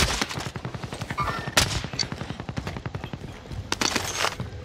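Rapid automatic gunfire in a video game, dense bursts of shots close and loud, with a few heavier single reports and short pauses, no talk over it.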